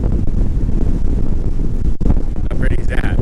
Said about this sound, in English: It's very breezy this morning.